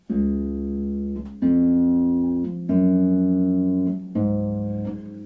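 Slow plucked harp notes played with open thumb technique ring out one after another, each tone sustaining and blending into the next with a warm, resonant sound.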